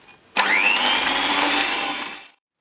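Electric hand mixer with beaters whirring steadily through cookie dough for about two seconds, starting abruptly and cutting off, loud and close with no voices.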